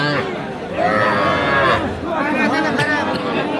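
Young bull calves bellow at a livestock market, with drawn-out moos rising over a steady murmur of crowd chatter and voices throughout.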